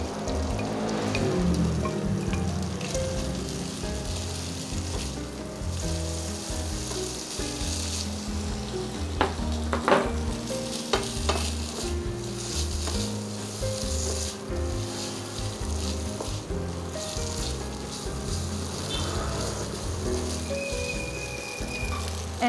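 Pasta frying in a hot pan sizzles steadily and is stirred, with occasional clinks and scrapes of a utensil against the pan throughout.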